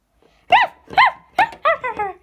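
A dog barks six times in close succession, the last few quicker and higher, clear and near with no talk over it.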